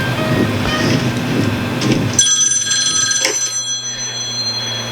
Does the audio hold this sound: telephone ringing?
yes